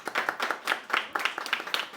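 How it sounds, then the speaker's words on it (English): A small audience claps for a chef joining a hospitality industry panel, a brief burst of fairly close, distinct hand claps in a quick, uneven rhythm. "Give him a round of applause."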